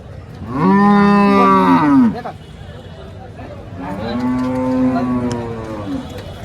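A Holstein Friesian cow gives two long, loud moos close by at a cattle market in Chalisgaon, separated by a brief pause with faint background noise.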